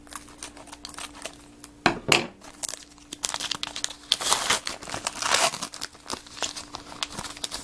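Scissors cut open a 2014 Cryptozoic Ender's Game trading card pack, with close, loud crinkling and rustling of the foil wrapper in bursts, a sharp snip-like burst near the two-second mark, over a low steady hum.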